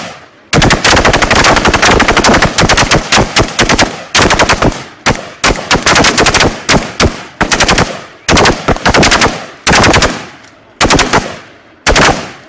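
Automatic rifles fire during Turkish military shooting practice on a range. Loud, close bursts of rapid gunfire come in long and short strings, separated by brief silences.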